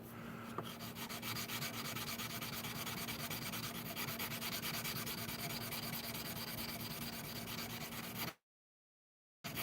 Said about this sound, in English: I'm gonna flip my sanding block around, be a little more aggressive here.